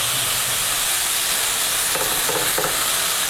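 Spice paste with lime leaves sautéing in oil in a pan for tuna balado, a dense continuous sizzle and hiss with a few faint stirring knocks near the end.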